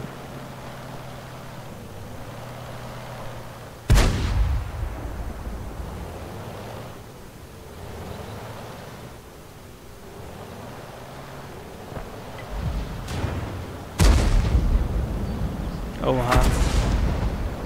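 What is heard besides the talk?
Panzer IV tank cannon fire in a video game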